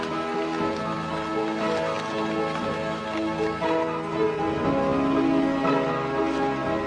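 Steady rain falling and pattering on surfaces, a dense continuous patter with some tonal ringing mixed in, fairly close and even in loudness.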